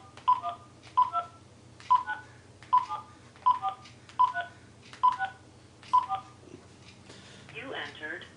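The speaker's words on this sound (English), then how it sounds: "please enter the 10-digit home phone number where you want DirecTV service" Touch-tone telephone keypad beeps entering a ten-digit home phone number, evenly spaced tones one after another, clear and close, followed by a brief burst of other sound at the end.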